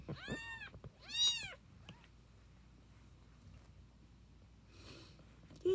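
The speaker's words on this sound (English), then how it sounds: "Very little meowmers" Tiny baby kittens give several high, thin meows close by, two clear cries early on, then a long quiet stretch before more faint mewing and one last squeak.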